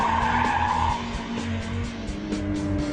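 Mazda MX-5 tires squealing as the roadster corners sideways, a loud sustained screech with engine noise underneath, steady throughout.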